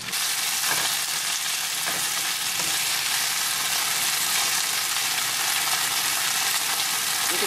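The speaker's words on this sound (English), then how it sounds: "I'm going to turn these around in the olive oil, get them coated, and I'm going to let them brown up a little bit." Vegetables browning in olive oil in a pan, a steady close sizzle and crackle running unbroken with a few soft stirring knocks early on.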